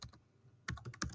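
Typing on a computer keyboard while writing CSS code: a few close, crisp key clicks in a quick uneven cluster after a brief pause, alone without speech.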